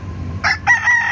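A rooster at a backyard poultry farm lets out one short, loud, close crow that breaks off briefly and then carries on in a strained, drawn-out note.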